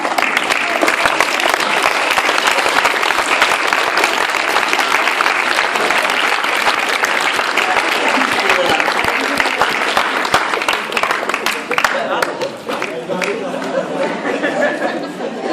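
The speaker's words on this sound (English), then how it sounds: "I would like you to stand and applaud them properly, please." A standing crowd at a high school leavers' event claps loudly and steadily, the applause mixed with chatter and some laughter, then tapering slightly toward the end.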